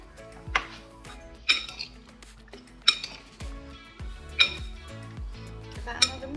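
Cut strawberries with their tops removed and whole raspberries being mixed in a bowl, a run of clinking and scraping knocks of a utensil against the dish, repeated every second or so, close and moderately loud.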